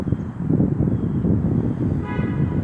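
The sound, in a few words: vehicle horn honking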